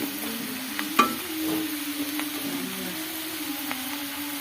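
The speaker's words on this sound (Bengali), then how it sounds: "ও একসাথে মিক্স করে তারপর তেলে ভাজছে।" Flour-coated French fries cooking in hot oil give off a steady, moderate sizzle with light stirring clinks and one sharp knock near the start, with no talking.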